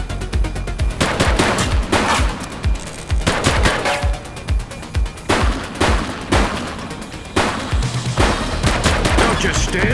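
Gunfire in a police video game, repeated rapid bursts of shots in clusters over several seconds, loud and close, with brief gaps between volleys and no speech.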